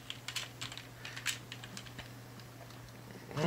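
Keys tapped on a computer keyboard attached to a 15-year-old PC running Fedora 33 with LXQt, a quick irregular run of light clicks over a steady low hum, with a louder bump at the very end.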